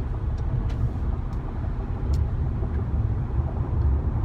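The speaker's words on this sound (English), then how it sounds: "Traffic." Road traffic passes in a continuous low rumble of cars and engines, steady and fairly loud, with a few faint high clicks over the top.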